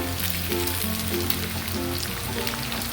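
Curry leaves and cashews crackle in hot oil while a creamy curd rice is being made, a steady close, dense sizzle with light popping running throughout, no voices.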